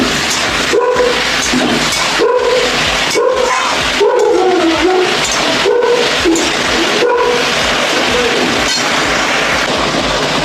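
Vegetables seasoned with salt and turmeric sizzle in a hot pan in a steady, loud hiss, broken by periodic scraping as they are stirred.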